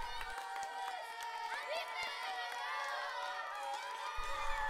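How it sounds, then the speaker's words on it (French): An ancient Roman crowd cheers and shouts in a mixed roar of many voices, a moderately loud, continuous wall of acclamation with scattered higher calls, rendered as a podcast sound effect. "Au son des acclamations des Romains, il se sent puissant."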